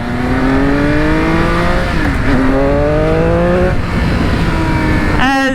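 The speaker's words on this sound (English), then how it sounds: "the sound of this bike compared to basically anything else on the market, in my opinion, it's got the best sound" Triumph Speed Triple RS motorcycle engine revving up and down in steady rising sweeps, loud and close, with a brief sharper burst of revs at the end.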